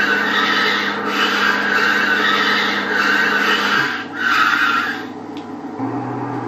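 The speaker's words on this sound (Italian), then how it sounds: "fate caso anche che a una certa velocità, quando fate le curve, i pneumatici si sentiranno" In Grand Theft Auto V, a car's tires rasp and screech while cornering at speed over a loud, steady engine drone, with surges in the squeal and no talking.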